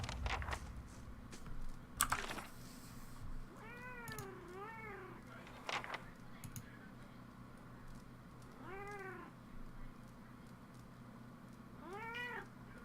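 A house cat meows repeatedly, about five drawn-out rising-falling cries spread across the span, close and fairly clear over soft computer keyboard typing and clicks.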